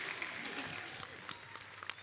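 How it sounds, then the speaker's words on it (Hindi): Faint studio audience applause on a Hindi comedy talk show set, a steady soft patter of many hands lasting a couple of seconds with no clear voices over it. "कांग्रेचुलेशन, जोरदार तालियां हो जाए"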